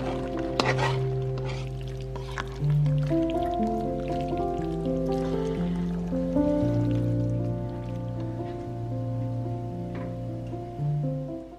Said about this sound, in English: For the broth, I just added probably about 12 cups of water to the pan.